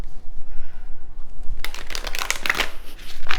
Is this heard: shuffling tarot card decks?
yes